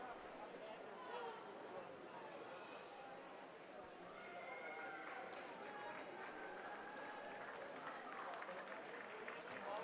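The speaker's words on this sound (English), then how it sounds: "Everybody clapping her all the way through to the end, as they should." Spectators at an indoor university swimming invitational clap continuously, a faint distant patter of hands with some announcer-style talk and pool-hall noise mixed in.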